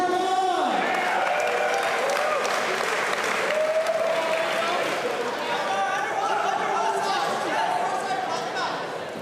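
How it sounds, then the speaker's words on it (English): A crowd at a grappling match in a fighting championship applauds and cheers loudly and steadily throughout, with chatter mixed into the sustained clapping and a slight fade near the end. "Let's cheer him on, guys,"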